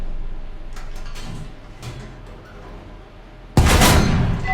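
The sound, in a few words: tank cannon firing in video game War Thunder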